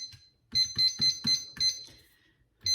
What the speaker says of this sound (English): my timer went off